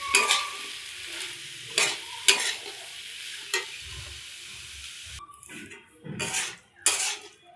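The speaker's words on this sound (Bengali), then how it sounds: "দেখো মাশরুমটা 200 গ্রাম এনেছিলাম, এই পুরোটা এখন দিয়ে দিলাম। এবার এটাকে ভালোভাবে আমরা কষিয়ে নেব।" About 200 grams of washed mushrooms sizzle in a pan while a utensil scrapes and knocks against it in repeated strokes, close and fairly quiet, fading into softer sizzling with no talking.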